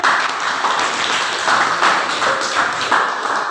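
A classroom of junior high students at SMP N 1 Borbor, Toba, clapping together in a lively burst of applause that continues steadily throughout, fairly close and loud.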